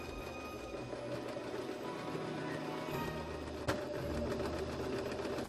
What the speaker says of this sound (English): Sewing the lining to the main piece.